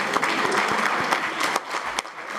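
Audience applause after a musical performance at a lecture event, dense clapping from a sizeable crowd with loud individual claps standing out, easing slightly toward the end.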